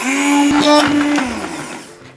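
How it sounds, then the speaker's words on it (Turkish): A blender churns homemade sour cherry ice cream with a loud, high motor whine up close, which then winds down and fades toward the end. "Tekrar 5 dakika blenderdan geçiriyoruz."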